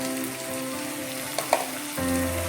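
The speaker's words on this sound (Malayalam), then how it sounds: "മസാല ഇട്ട് നല്ലതൊന്ന് വഴറ്റാം" Chicken frying with ground masala while being sautéed for Hyderabadi chicken masala, giving a steady close sizzle with a couple of brief spoon clicks. The frying grows slightly louder near the end, with no talk.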